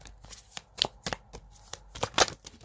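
Tarot cards being shuffled by hand in quick irregular riffles and slaps, close and crisp, with one card snapping out near the end.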